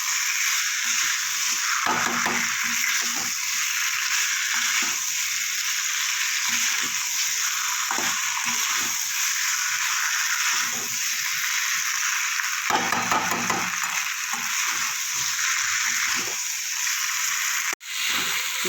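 Fried potato and cauliflower are stirred into a masala in a hot pan, giving a steady, loud sizzle with faint scraping throughout and no talking.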